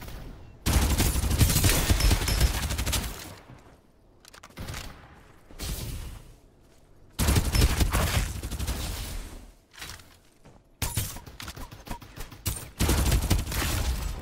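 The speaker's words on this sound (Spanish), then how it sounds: "¿Quién me dispara?" Heavy gunfire in the battle game Farlight 84, with long, dense, loud volleys broken by short lulls and quieter stretches, and no talk heard.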